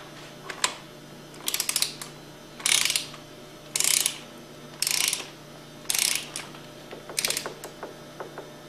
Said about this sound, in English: And then torque the plunger nuts to 18 foot-pounds.